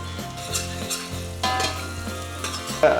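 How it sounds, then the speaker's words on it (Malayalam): Garlic, onion, carrot and other vegetables sauté in a soup pot, a steady sizzle broken by repeated scraping stirs and light clinks of a utensil against the pot. "ഗാർലിക്, ഒണിയൻ, മറ്റുള്ള വെജിറ്റബിളെല്ലാം ഒന്ന് സോട്ടേ ആയിട്ടുണ്ട്"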